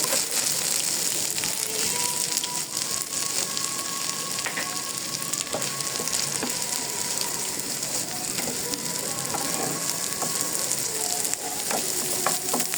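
Garlic and onion frying in a pan for a dried-fish chepa shutki bharta, a steady broadband sizzle throughout with occasional utensil clicks and scrapes, no voices.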